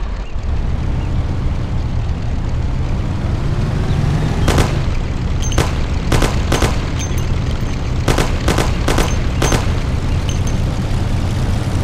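Thompson submachine gun shooting in the game Mafia, two quick clusters of sharp shots over a steady loud roar of engine or road noise.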